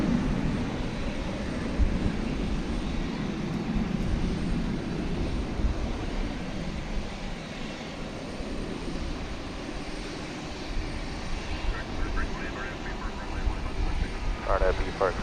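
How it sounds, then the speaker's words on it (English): A United Boeing 737-900 departing DFW Airport at night, a broad steady jet engine roar heard from a distance that holds throughout, with people talking over it. "There goes the United plane to Houston. 737-900."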